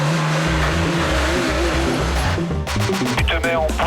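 A Le Mans race car's engine runs loud and close, revving through rising and falling steps as it pulls away, with a voice briefly over it near the end.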